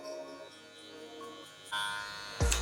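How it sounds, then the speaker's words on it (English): Hair clipper with the blade open buzzing steadily during a high taper fade haircut, a close continuous electric hum that shifts in pitch midway and ends with a sharp knock. "Now I come in with my clipper open, just like I'm going 1/2 inch."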